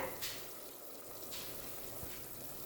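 Soft steady bubbling and hissing of water boiling in a pan, faint and continuous, with a few small pops.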